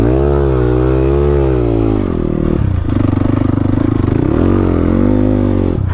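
An enduro motocross motorcycle at a race in Pokhara revs loudly and close, its engine note rising and falling in sustained, throaty surges.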